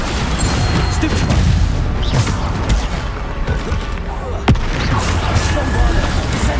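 Bombarda spell explosions in Hogwarts Legacy, repeated booming blasts and crashes in a dense, loud battle din, with one sharp crack standing out near the middle and muffled voices underneath.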